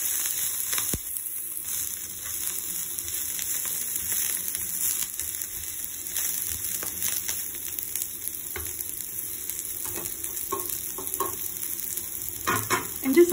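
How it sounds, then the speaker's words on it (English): Eggplant and scallion being stirred in a hot pan: a steady close sizzle of frying with scraping stir strokes throughout, and no talking. "Stir this."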